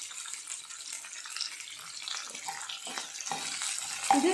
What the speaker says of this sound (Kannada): ನಾವು ಹಾಗಲಕಾಯಿ ಹುರ್ಕೊತೈತಿಲ್ಲ ಅದ್ರ ಜೊತೆಗೆ ನಾವು ಉಳ್ಳಾಗಡ್ಡಿ ಹುರ್ಕೋಬೋದು